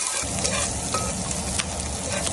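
Chopped onion sizzles and fries steadily in hot oil in a pan for an Andhra-style fish curry, a dense continuous crackle with no voices.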